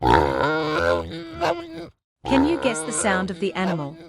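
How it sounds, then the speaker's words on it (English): Pig grunting in low, rough bursts heard close around a brief spoken question, with a short silent gap between the grunts. "Wow! It's a pig."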